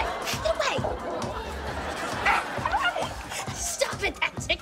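Dogs yip, bark and whimper close by in an excited scramble, mixed with overlapping talk and laughter in a lively indoor scene.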